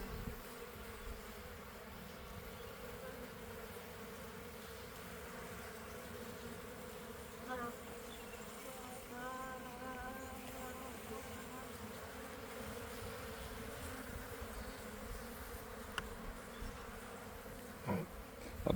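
Bees buzz steadily around an open beehive during an inspection, a constant soft hum of many insects close by with no talk over it.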